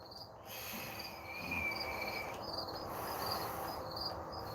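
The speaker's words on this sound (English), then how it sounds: "you can probably hear them crickets a chirping" Crickets chirp steadily outdoors in a high, continuous trill with a rhythmic pulse, moderately close and unbroken, with no talking over them.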